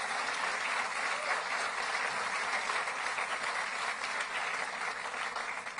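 Sustained applause from an audience at an outdoor groundbreaking ceremony, a dense steady clatter of many clapping hands at moderate distance, fading slightly at the end.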